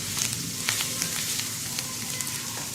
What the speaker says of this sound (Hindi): अब इसमें हम चिकन ऐड कर लेंगे।